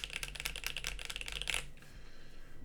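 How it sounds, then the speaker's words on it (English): Typing on a Nyxkeys Athena65 mechanical keyboard: a fast, steady run of bright, close keystrokes that stops abruptly, leaving low background hum. "does this keyboard sound keyboardy"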